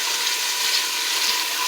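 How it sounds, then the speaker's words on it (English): Spaghetti sauce is stirred in a pot on the stove, giving a brief, steady, close hiss of sizzling and bubbling with no talk. "Step back over here to my pot. Stir this up."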